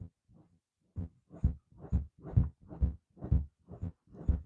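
Electric clippers carving a tufted rug, a run of low thumping pulses about twice a second that sound like a heartbeat, fairly close and steady after a soft start, with no talk over them.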